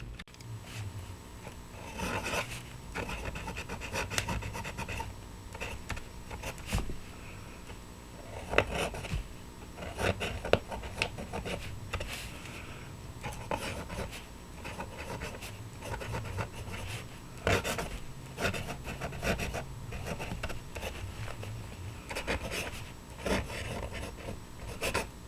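Santini Libra fountain pen with a modern flex nib scratching across paper in steady strokes, faint and close, with small taps and pauses between words and no talk.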